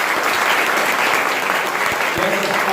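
Church congregation applauding, a steady, loud wash of many hands clapping together throughout, with no gaps.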